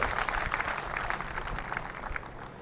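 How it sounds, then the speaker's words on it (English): Audience applause at a STEM program event in Los Angeles, a dense even patter of clapping that fades slightly over a few seconds. "another big round of applause for Jessica"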